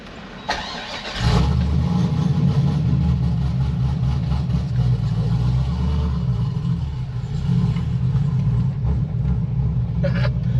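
A Corvette C6 engine cranks and catches at about one second, then settles into a steady, loud idle with a deep low rumble.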